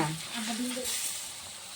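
Ground spice paste hits a hot pan of oil and sizzles, with a steady, soft frying hiss and faint stirring, quiet and close.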